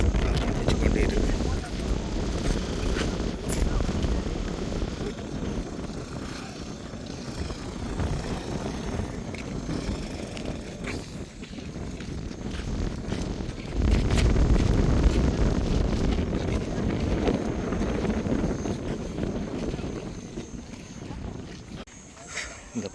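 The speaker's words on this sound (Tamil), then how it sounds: "இந்த காற்று அடிச்சு கொண்டே இருக்குது" Strong wind buffets the microphone in a continuous heavy rumble at a church where crowds are gathering, swelling in gusts and easing briefly near the end.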